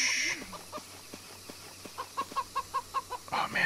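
Chickens in the game The Church in the Darkness cluck in a quick run of short, evenly spaced calls, moderately loud over a faint game ambience, with a brief higher squawk near the start.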